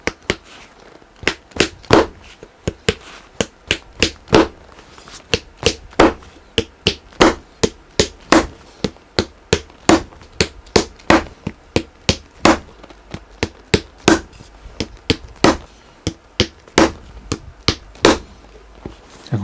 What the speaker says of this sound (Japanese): 今開けた穴にこの木釘を打ち込んでいきます。